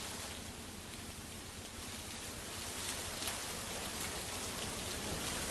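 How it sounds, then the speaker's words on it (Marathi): Heavy rain pours steadily over a residential society in Kothrud, Pune, a dense, continuous hiss that swells slightly toward the end, with no voices present. "कोथरूड परिसरात जोरदार पाऊस झालाय।"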